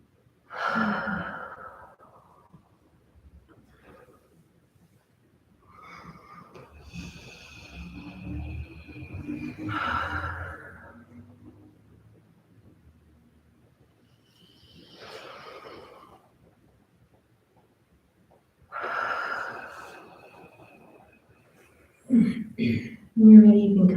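Slow, deep breaths during a yoga stretch: several long inhales and exhales spaced by silent pauses, close and soft, as a calm voice guides the movement between breaths.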